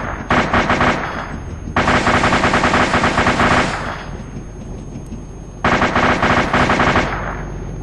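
Bursts of automatic gunfire in the ARMA 2 military game, loud rapid machine-gun volleys in three long strings separated by short pauses, with no talk over them.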